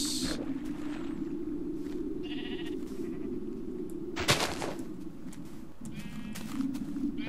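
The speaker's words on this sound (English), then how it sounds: "That's a pink sheep." Minecraft 1.2.5 sheep bleating in a swampland area, several short bleats over a steady game ambience hum, with footstep-like clatter and a brief sharp burst midway.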